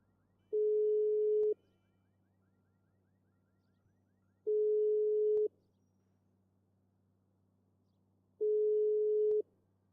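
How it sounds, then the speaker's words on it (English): Telephone ringback tone heard through the line: three evenly spaced one-second rings, a few seconds apart, clear and unanswered against a faint hum. "As you can hear in the background, the phone is still ringing."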